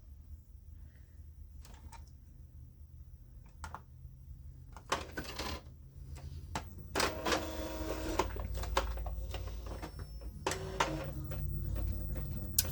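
An inkjet printer feeds a sheet through with a series of mechanical clicks, whirs and clunks, starting sparse and growing busier and louder as the paper moves through, over a low steady hum.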